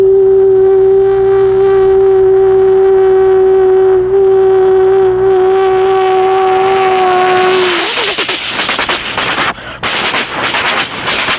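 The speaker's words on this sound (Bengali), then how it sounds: "যখন একটি এক্সপ্রেস ট্রেন যখন স্পিডে কাছ থেকে বেরিয়ে যায়, তখন তার আওয়াজটি কেমন হয় শোনা যাক" A Duronto Express sounds a loud, sustained horn as it nears, then rushes past at speed close by in a roaring broadband blast of wheels and wind that stays loud to the end.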